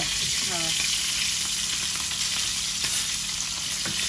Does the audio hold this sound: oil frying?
yes